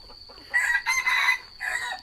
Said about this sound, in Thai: ตัวนี้ก็จะเป็นไก่ป่าเนาะ